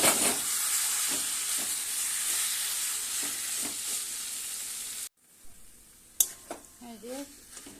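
Taro greens and chickpeas are stirred in a hot pan, giving a close, steady sizzling hiss with soft scraping strokes. It stops abruptly, leaving quieter clinks and faint voice-like sounds.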